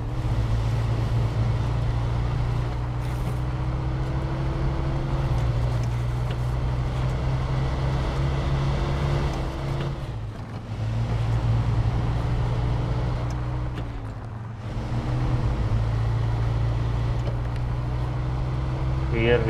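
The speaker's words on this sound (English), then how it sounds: "I don't like the truck sound." Truck engine from the SnowRunner video game on Nintendo Switch, a continuous low rumble that drones steadily with slight dips in pitch, heard alone at a constant level throughout.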